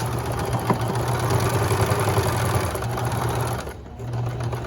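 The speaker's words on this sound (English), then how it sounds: "I'm gonna sew a 1/4 of an inch" A sewing machine stitching a quarter-inch seam around the curved edge of a fabric facing on a fly front, running steadily with a fast mechanical hum before briefly stopping and starting again.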